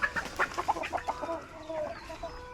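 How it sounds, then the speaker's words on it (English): Several chickens on a farm cluck and squawk in a short, busy flurry as they follow along and scuffle, with sharp calls at the start that settle into softer clucking nearby. "Got a bunch of birds following me, and they got in a fight."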